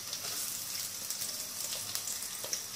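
Chopped onion frying in a little oil in a pan, a steady close sizzle with fine crackling pops throughout, heard alone without talk.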